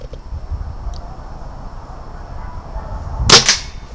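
A BSA R10 Mk2 air rifle fires a slug once near the end, a single sharp crack standing out from quiet background noise.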